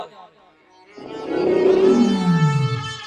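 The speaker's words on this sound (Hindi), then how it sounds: "लेकिन खंबे में से गुरगुर की आवाज आ रही।" A deep growling roar like a lion's rises from a struck pillar in a retelling of the Narasimha story, swelling loud and long after a brief quiet opening and sliding lower as it fades.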